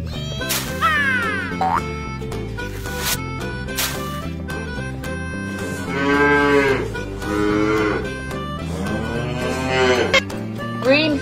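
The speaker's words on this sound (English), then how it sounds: "Cow." Cartoon cow mooing in a children's animal-name song, several loud drawn-out moos in a row with springy boing effects and music around them.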